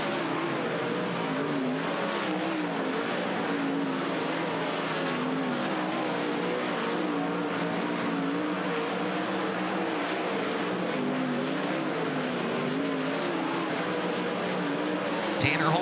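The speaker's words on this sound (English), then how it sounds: "Jacob Allen in the 1A as we go green on Dirt Draft Hot Lap Session number 2 here at Grace Harbor Raceway." Sprint race cars of the Kubota High Limit Racing series running a dirt-track hot lap session at Grays Harbor Raceway, several engines droning and revving together in a continuous, fluctuating roar heard from a distance, with no speech.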